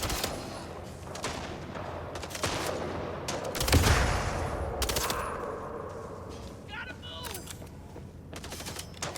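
Rapid bursts of automatic gunfire and sharp impacts from the MindsEye video game, loud and close, with a heavy blast near the middle and scattered shots before and after.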